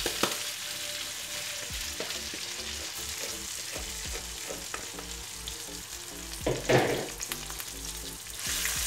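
Washed rice and green beans sizzle steadily in a pan, broken by repeated scraping and clinking stir strokes that swell near the end. No one speaks.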